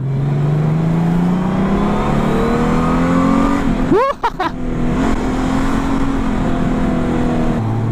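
A 2019 Honda Goldwing Tour DCT motorcycle accelerating in sport mode, its engine pitch climbing steadily and then dropping briefly at an automatic gear shift before rising again, loud with rushing wind noise.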